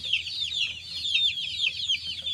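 A one-month-old chick peeps in a rapid, steady string of thin high chirps, close and clear, with no other sounds.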